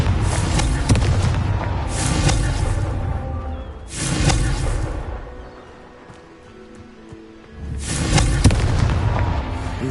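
Fiery blasts from the Confringo spell in Hogwarts Legacy burst loudly three times, each a booming crackling explosion that tails off, with a quieter gap between the second and third.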